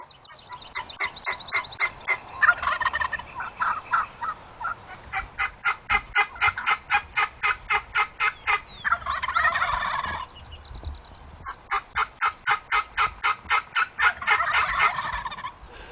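Wild turkey gobbling during a spring hunt, repeated rapid rattling gobbles in bursts alongside pulsing clucking and trilling calls, loud and fairly close with no talk.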